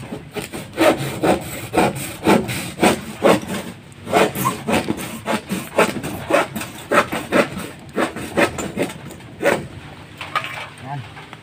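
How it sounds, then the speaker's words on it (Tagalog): A hand saw cutting wood while building a nipa hut, with steady back-and-forth strokes in a regular rhythm, close and clear, pausing briefly before resuming. "Milipit yung lagari natin."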